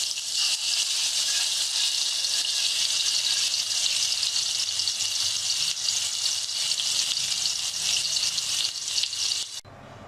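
Chicken pieces frying in a few spoonfuls of hot oil in a kadhai give a steady, loud, dense sizzle that holds for the whole stretch and cuts off just before the end, with no talking.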